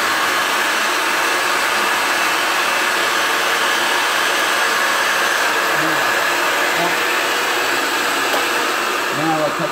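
Pipe threading machine cutting threads on an LCS pipe, a steady loud motor whine and grinding that runs continuously without a break, close by and alone.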